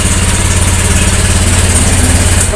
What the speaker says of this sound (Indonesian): Terus kalau di starter coba kita lihat bagaimana kalau di starter Vario.